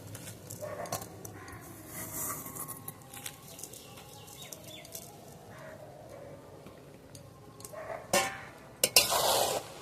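A spoon stirs sweetened rice pilaf in a pot, soft scraping and shuffling over a low background hum, ending in a couple of louder clanks against the pot.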